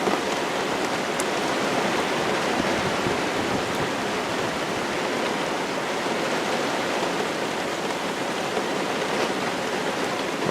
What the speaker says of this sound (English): Kind of getting soaked here from the rain blowing sideways.